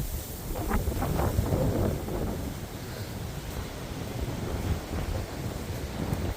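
Strong wind gusting through an outdoor garden at Longwood Gardens in Pennsylvania, a continuous low rumbling roar buffeting the microphone, with no talk heard.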